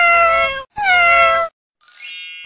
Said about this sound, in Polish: Trzy kotki w pudełku.